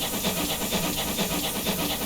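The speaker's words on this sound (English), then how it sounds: "Our first safety valve starts to pop off." In a train simulator, the safety valve on a GWR Small Prairie 2-6-2T steam tank locomotive blows off, giving a steady, broad hiss with a faint rhythmic pulsing beneath it.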